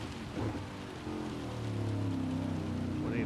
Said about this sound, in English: We really need this rain to start disappearing.